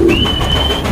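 Pigeons in a loft give one soft, close coo that ends quickly, with nothing else heard.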